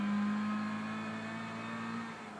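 A racing car engine in Gran Turismo 6 drones at a steady high pitch, loud and close, holding one note before easing slightly toward the end, with no talking.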